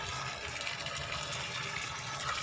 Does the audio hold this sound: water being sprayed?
yes